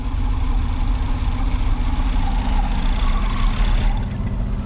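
An old van's engine idles roughly in the cold after sitting unused for years, a steady loud low rumble with uneven pulsing throughout, no voices.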